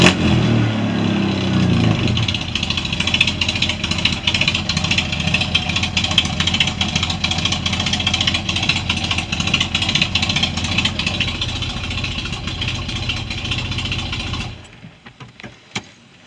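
A heavily cammed engine runs with a lumpy, rough idle and repeated revving, steady and loud for most of the clip before cutting off abruptly near the end.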